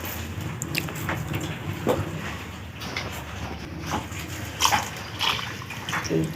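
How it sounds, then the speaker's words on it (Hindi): A glass of water is poured into a cooking pot of potatoes, giving close splashing and sloshing with a few louder bursts, and no talk. "पानी मुझे कम लग रहा है तो उसमें 1 गिलास पानी और जाएगा।"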